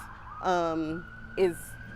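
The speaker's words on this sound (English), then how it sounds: "And police sirens whirl by shortly after." Police car sirens pass by in two short wailing bursts, one longer and one brief, loud and close against a steady background hum.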